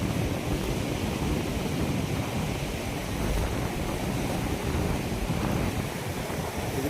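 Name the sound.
Himalayan mountain stream water flowing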